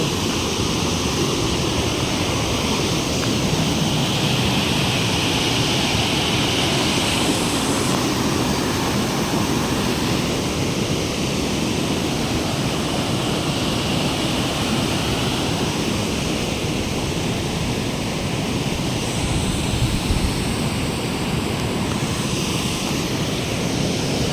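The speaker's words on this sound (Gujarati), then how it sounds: "જોઈ મિત્રો પાણી ચાલી રહ્યું છે મિત્રો લાઈવ એરિયામાં જોઈ શકો છો" Steady, heavy rush of water flowing from Dantiwada Dam, a continuous roar filling the whole stretch with no pauses.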